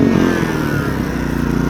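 A 2 kW portable generator engine runs steadily at close range, a loud continuous droning hum with a harmonic whine, likely just started and about to power a high-speed cutoff saw for cutting 3 mm pipe.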